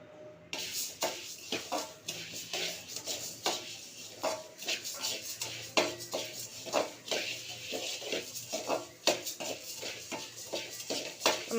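Coriander seeds are dry-roasted in a pan for homemade sambar powder, heard as a dry rustling shuffle with frequent scraping and clinking of a spoon against the pan, fairly close and at an uneven pace.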